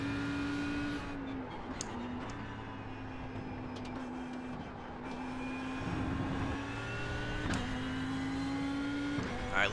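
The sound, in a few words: race car engine in the iRacing video game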